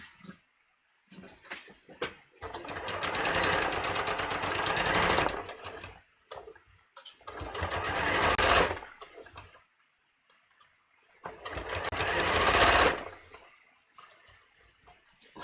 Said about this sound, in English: we're going to sew this through all of these layers.